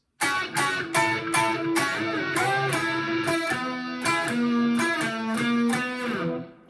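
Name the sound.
short guitar lead part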